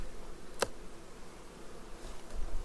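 Honeybees of the Carniolan strain hum softly around hives at an apiary, a faint continuous buzz with one bee passing close by briefly in the middle.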